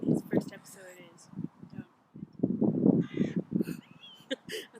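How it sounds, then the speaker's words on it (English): A seagull calling with repeated harsh, cawing cries, fairly near, mixed in with people talking. "I thought we were going to get attacked by the seagull."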